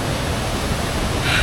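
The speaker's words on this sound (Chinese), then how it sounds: "给大家拍一下啊，还挺大的这瀑布。" A large forest waterfall gives a dense, steady roar of falling water, loud and close, with no voices over it.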